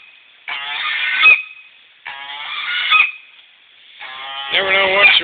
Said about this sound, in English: Guess who's making all that noise? Guess who's hiding back here? Hi, geese.